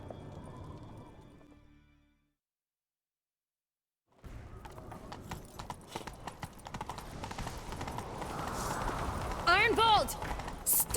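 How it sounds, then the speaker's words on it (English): Horse hooves clip-clopping at a gallop in a chase scene from the Wild Hunt game, a steady rhythmic pounding that grows louder over the clip after a brief silence, with faint voices earlier. "Grab a horse, we'll chase him down."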